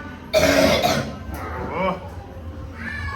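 A burst of harsh, rough coughing near the start, then quieter throaty sounds and murmuring voices.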